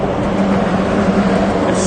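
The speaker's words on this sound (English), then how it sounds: "I can see the cars driving right over me." Cars passing overhead on a grated bridge above a kayak on the water in Baltimore, a loud continuous roaring hum echoing from directly above.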